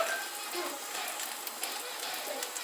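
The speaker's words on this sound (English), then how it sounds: "Sizzling away." Faint, steady crackling and hissing of churros frying in hot oil, a soft broadband sizzle with small pops.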